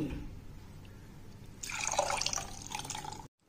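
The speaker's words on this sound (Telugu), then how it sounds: "ఇప్పుడు ఫిల్టర్ చేసుకుందామండి" Boiled drumstick leaf decoction is strained through a filter, a faint trickle building into a steady close pouring splash for a couple of seconds before stopping abruptly.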